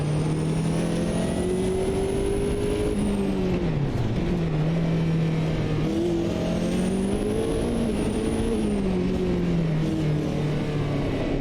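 A Nissan R89C race car engine in a racing game at Brands Hatch, a loud, continuous high-revving drone that rises and falls through gear changes and corners, with a whining high tone above it.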